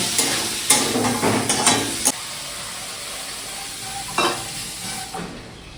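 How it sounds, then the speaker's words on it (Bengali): Water poured into a jackfruit and prawn curry in a hot pan sets off a loud burst of sizzling with a few stirring knocks, then settles into a quieter, steady hiss with one more brief flare. "খুব বেশি জল দেবো না মোটামুটি একটু এঁচোড়টা সেদ্ধ হওয়ার মতো জল দেবো"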